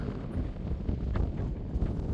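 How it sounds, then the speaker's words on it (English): Wind gusting across the exposed mountain top at the old Mary Murphy mine in Colorado's backcountry, a steady, loud, rumbling buffet on the microphone with no voices. "Pretty windy up here."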